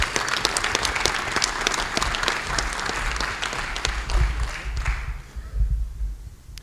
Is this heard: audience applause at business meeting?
yes